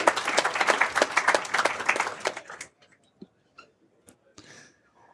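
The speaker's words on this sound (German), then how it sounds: "Ein Applaus für dich." An audience applauding at a podcast presentation event, a burst of dense clapping for about two and a half seconds that stops abruptly, leaving a few scattered claps and small noises.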